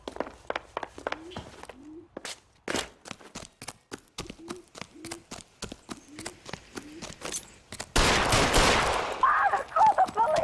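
Rapid gunfire in the LA Noire video game, a quick series of sharp shots with short gaps, some in bursts, followed by a louder sustained blast and noisy tail near the end.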